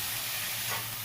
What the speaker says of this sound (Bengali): বাঁধাকপিটা দিয়ে দিয়েছি। এবার একটু নাড়ানাড়ি করে নিয়ে মশলা সব দেবো।